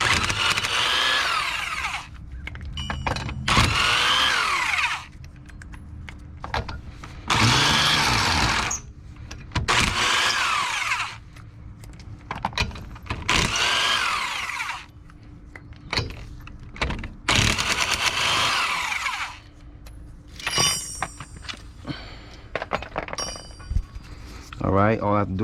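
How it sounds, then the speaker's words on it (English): An impact wrench removes the rear wheel lug nuts on a 2009 Hyundai Sonata during brake work. It fires in loud, close bursts of several seconds each with short gaps between them, and a voice talks at times. "Now that I have the studs free, I can go ahead and use my impact to get them off."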